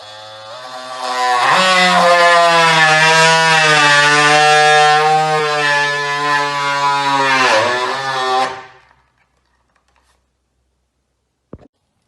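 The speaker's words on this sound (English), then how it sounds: "using this multi-tool, start to cut the frame out." An oscillating multi-tool cuts out a frame in a herringbone wood floor, a loud buzzing whine that starts up, holds steady for about seven seconds with slight pitch wavers, then stops, followed by a single faint click.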